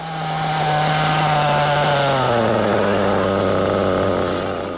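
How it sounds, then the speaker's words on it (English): A Reds Racing R7 nitro engine in an RC car buzzes steadily at a high idle, then its pitch drops a step and settles into a lower, uneven idle, close and loud, a fault known as double idle. "If you listen to the engine right there, you'll hear what's known as a double idle."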